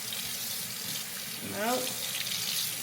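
Hot water runs from a tap in a steady, close hiss that swells slightly partway through, and a person says a single short word over it.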